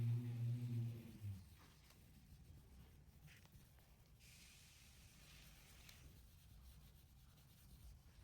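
A cloth rubs oil across the wooden parts of an olive wood and epoxy coffee table top in soft, faint, steady strokes, with a brief low hum at the start.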